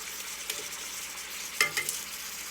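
Beef tips browning in a pan for a crockpot dish: a steady, quiet sizzle with a few sharp clinks of a utensil against the pan near the end, and no talking.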